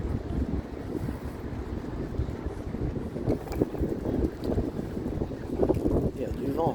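Strong wind roars through a forest, buffeting the microphone with a continuous low rumble and gusty surges, while a voice talks faintly underneath.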